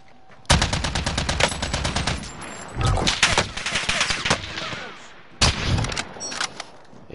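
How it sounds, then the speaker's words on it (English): Rapid automatic bursts from a sentry gun in a video game: a long loud stream of closely spaced shots, a second rattling burst mixed with other noise, then a short final burst, close and sharp. "Friendly sentry gun online."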